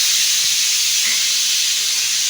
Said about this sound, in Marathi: तिला कुकरच्या शिट्टीचा आवाज नाही आवडत